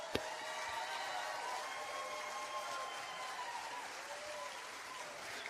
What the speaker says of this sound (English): Clap for yourself.